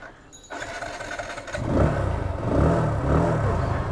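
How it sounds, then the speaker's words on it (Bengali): TVS Apache RTR 160 2V motorcycle engine while riding: a clicking start, then a rising, throaty single-cylinder drone that swells as it revs up, near and loud throughout. "আরটিআর এর সাউন্ড সবসময় একটু অন্যরকম অ্যাগ্রেসিভ থাকে"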